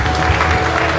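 Congregation clapping during a Sunday evening celebration service, a brief loud burst of applause with heavy low rumble, heard alone.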